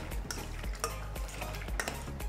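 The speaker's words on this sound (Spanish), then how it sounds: "Vamos a mezclar esto muy bien." Fish being mixed with salt and seasoning in a ceviche-style marinade, a short burst of wet stirring with soft clinks of a utensil against a bowl, close and without talk.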